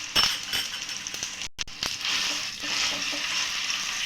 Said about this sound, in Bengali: নেড়ে চেড়ে কিমাটা আমি একটু রান্না করে নেব।